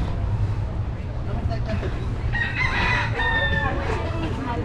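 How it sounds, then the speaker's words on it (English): Several roosters crow in overlapping calls amid a noisy outdoor background in Ybor City, Tampa, Florida, with people's voices mixed in. "That's a lot of roosters."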